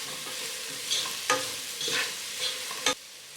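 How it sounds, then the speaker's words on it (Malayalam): Chopped onions with salt being sautéed and stirred in a pan for a chicken dum biryani, a soft close sizzle broken by several scraping stirs of a spoon, no voices. "ഉപ്പ് പൊടി ചേർത്ത് വീണ്ടും നല്ലതുപോലെ വഴറ്റി കൊടുക്കണം"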